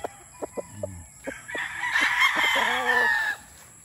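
A pure Sweater gamefowl rooster gives a loud, close crow after a few sharp clucks and clicks, with a little background noise in the pen.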